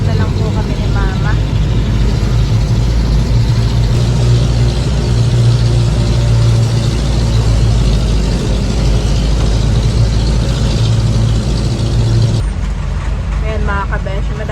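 A jeepney's engine drones loud and steady as it rolls through city streets, a constant low rumble throughout with passengers' voices faintly mixed in.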